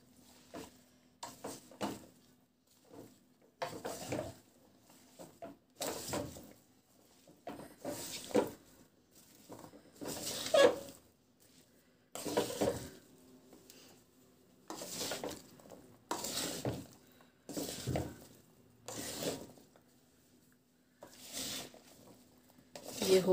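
About 1.5 cups of oil being stirred by hand into mixed pickle with a spoon, repeated scraping and clinking strokes against the bowl at an uneven rhythm, close up, with quiet gaps between strokes.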